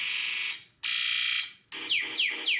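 Synthetic electronic tones from a Snap Circuits Extreme SC-750 sound module: a steady buzzy beep, a pause, another beep, then a run of repeated falling zaps, loud and close.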